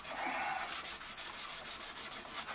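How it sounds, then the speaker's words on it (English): Sandpaper rubs back and forth along the scrappy edges of a routed groove in a wooden pinning tray, a quick run of soft rhythmic rasping strokes, close and fairly quiet. "A little bit scrappy on the edges, but a little touch of sandpaper"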